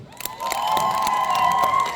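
A concert crowd at a college event cheers with sustained whoops and scattered clapping, loud and continuous throughout.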